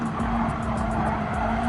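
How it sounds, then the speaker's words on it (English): Race cars in Gran Turismo 7 skid with squealing tires amid steady engine drone during a crash, a loud, continuous screech holding throughout. "And Retro does not like it and slams into Pokemon, but only wrecks himself in the process."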